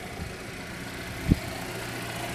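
A 2012 Chevy Captiva with a 2.4 liter engine idling at a steady low rumble, with one brief soft knock partway through.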